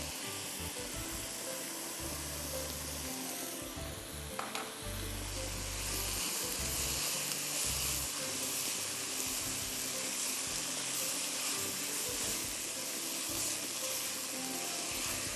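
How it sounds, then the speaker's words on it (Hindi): Onions sauté in a pan for chicken biryani with a soft, steady sizzle and occasional stirring scrapes and clinks, faint and without any talking over it. "प्याज को भी अच्छी तरह सौते होने दीजिए।"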